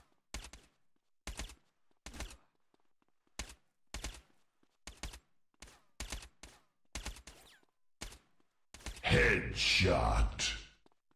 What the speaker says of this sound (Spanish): este es el efecto y el sonido